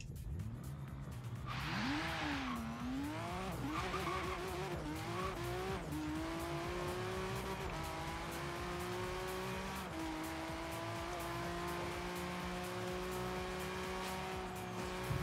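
A racing car in Forza Horizon 3 revs and accelerates, its engine tone climbing through gears with brief tire squeal early on, then holding a steady high drone at speed.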